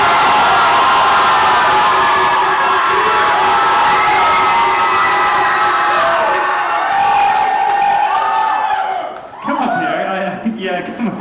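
Loud crowd of cheering and whooping fans applauding a band at a battle of the bands, a dense sustained roar with shouts, thinning toward the end as voices break through.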